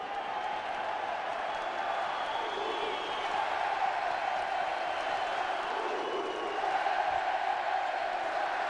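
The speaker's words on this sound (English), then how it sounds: "the only thing more fired up than these players is this crowd. They are rowdy." Rowdy crowd at an international basketball game, a FIBA World Cup qualifier between Venezuela and Canada, roaring and cheering in a continuous arena-wide wash of noise that swells slightly toward the end, distant and sustained.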